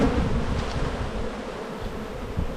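Honeybees shaken off a brood comb frame during a hive inspection fill the air with a loud, continuous, dense buzzing that swells and holds steady at close range.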